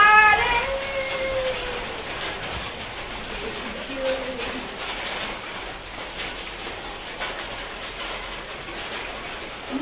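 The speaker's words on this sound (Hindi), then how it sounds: "आप देख रहे हो भाई बारिश भी" Rain falls steadily in a village, a constant hiss with scattered patter from drops on surfaces, while voices call out briefly near the start and around the four-second mark.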